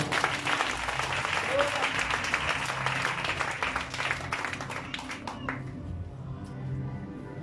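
A church congregation applauds and cheers in a sustained, dense burst of clapping that fills the space, then thins and fades out toward the end.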